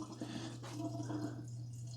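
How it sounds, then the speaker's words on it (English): Water trickles and drips quietly from the drain tubes of a GE Profile Opal 2.0 nugget ice maker during descaling, faint and close over a low steady hum. "You'll have water coming out both tubes."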